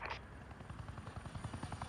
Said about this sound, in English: the helicopter like shows up like 1 second later after they're saying